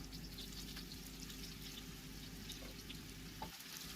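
Meatballs dropped into hot oil in a frying pan, giving a steady, close sizzle and crackle that runs throughout with no talking.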